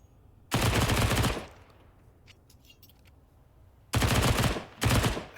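SMG fire in the Counter-Strike tournament game comes in three loud, close, sustained automatic bursts, one long burst, a quieter gap with faint clicks, then two shorter bursts in quick succession.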